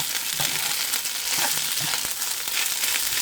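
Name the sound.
rice with onion frying in a pan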